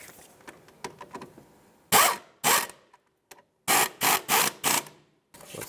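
Ratchet tightening a bolt on a 1997-2001 Lexus ES 300 during front ABS wheel speed sensor replacement, with light clicking and then several loud bursts of rapid ratcheting close to the microphone.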